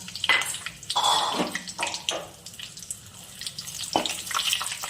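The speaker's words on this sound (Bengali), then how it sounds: "তেলটা গরম হয়ে গেছে, এখন ফোড়ন করে নিচ্ছি। শুকনো লঙ্কা, তেজপাতা, গোটা গরম মশলা" Dry red chillies, bay leaves and whole garam masala hit hot white cooking oil, giving a broad, steady sizzle and crackle that swells and eases over a few seconds, close up with no talking.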